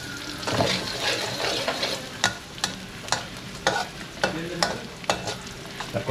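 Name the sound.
garlic sautéing in pan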